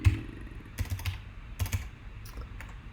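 Quiet, irregular clicking of a computer keyboard being typed on during a machine learning lecture, with short clusters of keystrokes and brief pauses and no talking.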